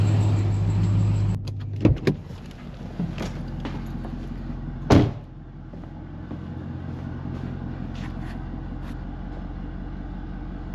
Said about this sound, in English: I got to do an Austin Powers 100-point turn to get squared up in here.